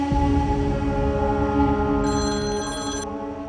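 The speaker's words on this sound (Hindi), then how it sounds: "किसका फोन है?" A telephone rings in a domestic drama scene, a steady electronic bell tone pulsing over a dense, sustained background hum with a bright warbling burst near the end, no talk heard.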